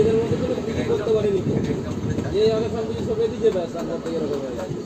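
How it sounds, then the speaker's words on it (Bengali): A local train pulls into Chengail station on a night run from Mecheda toward Bauria, a steady rumbling rail roar with wheel noise and faint squeals, heard from inside the carriage amid passenger chatter. "আমাদের ট্রেন এসে পৌঁছালো চেঙ্গাইল স্টেশনে"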